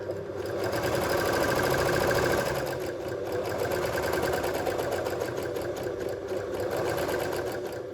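An overlock serger runs continuously as it sews a draped top, giving a fast, steady mechanical whirr and rapid stitching chatter, close and loud and with no voices.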